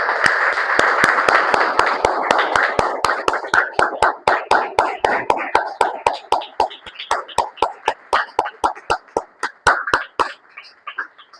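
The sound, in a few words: congregation clapping loudly for the Lord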